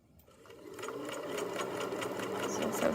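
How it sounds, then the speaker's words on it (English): A sewing machine stitches the hood facing of a Kwik Sew K3045 hoodie, its rapid, even mechanical rattle rising from quiet to a steady run close by. "I'll just sew that. Keeping my finger out of the way of my needle."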